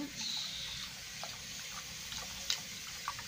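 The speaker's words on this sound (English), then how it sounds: "Time for the rinse." Tap water running steadily as a baby is rinsed during its first bath, a soft continuous splashing flow with a few small drips and splashes, close and fairly quiet, with no talking.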